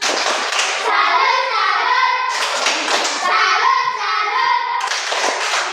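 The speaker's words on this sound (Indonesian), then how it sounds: "Mari kita berikan tepuk tangan untuk kelompok 3." Classroom students applaud for a group of classmates in repeated bursts of close, busy clapping, with children's voices calling out between the rounds.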